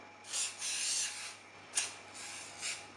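Short bursts of aerosol grease sprayed from a can onto a metal tart ring for a Breton shortbread strawberry tart, several quick hissing puffs of varying length, close and fairly quiet.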